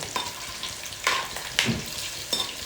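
Dry red chillies fry in hot oil for a Rajula-style prawn pulao, a steady close crackling sizzle broken by a few louder stirring scrapes, with no voices.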